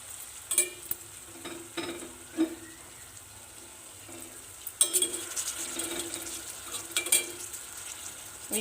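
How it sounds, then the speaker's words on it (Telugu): Boiled flat beans are stirred into a frying pan for a Telugu-style curry. A spoon scrapes and clinks in irregular strokes over a light, close sizzle. "ఉడకబెట్టుకున్న వాటిని ఇందులో వేసి కలపాలి"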